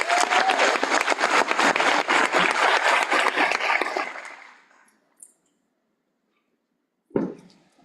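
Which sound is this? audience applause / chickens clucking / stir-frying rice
audience applause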